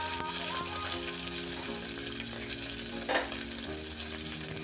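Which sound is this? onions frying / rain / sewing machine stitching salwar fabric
onions frying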